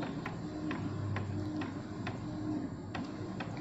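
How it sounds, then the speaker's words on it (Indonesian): An Epson L110 inkjet printer printing a photo gives off a steady mechanical hum, with soft periodic ticks from the print head moving back and forth, heard close and on its own. "Ini printer yang saya gunakan teman-teman adalah printer Epson L110"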